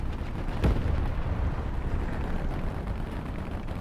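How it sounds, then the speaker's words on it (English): A light tank is blown up in War Thunder Mobile, a single heavy blast followed by a long rumbling roar of explosion and battlefield noise, loud and close. "And this little light tank rushing got blown up"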